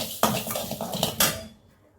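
Roasted fenugreek seeds tipped from a pan into a pot: two quick bursts of metallic clinks and scraping, close by, trailing off into quiet.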